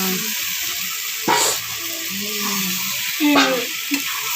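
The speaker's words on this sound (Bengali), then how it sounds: "আলুটা ভালো করে কষে নেবো" Potatoes being stir-fried with spices in a pan for aloo dum, a constant hissing sizzle broken by a few loud scraping strokes of the spatula, close up.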